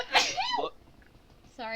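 A single loud, close sneeze bursts out abruptly, followed by a short spoken apology and another voice in quiet indoor surroundings.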